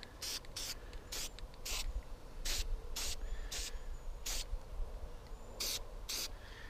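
A spray can coats a raw deer skull in a series of short, sharp hissing bursts, close and loud, repeated at an irregular rhythm with brief pauses between.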